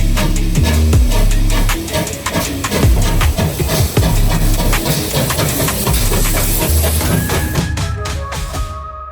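A steam train on the Embsay and Bolton Abbey Steam Railway chugging with loud, continuous hissing steam and rhythmic mechanical clanking, close by and steady throughout, fading slightly at the end.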